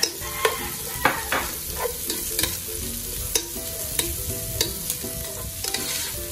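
One medium white onion frying in a pan for mussel ginger soup, a steady close sizzle with regular sharp scrapes and clicks of a utensil stirring, and no one speaking.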